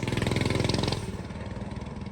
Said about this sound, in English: First test ride on the big block single-sided swing arm full suspension mini bike.